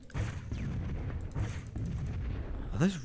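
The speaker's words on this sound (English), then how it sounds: "Those explosions are bigger, I think," Rumbling explosions from rockets fired by a rocket hog in a Halo game mod, heavy low booms that roll on for about three seconds, with a short rising whine at the end.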